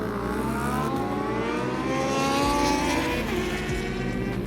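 A superstock race motorcycle pulls away from the start line in a novice race, its engine note climbing steadily and loud throughout, with other engines roaring close by.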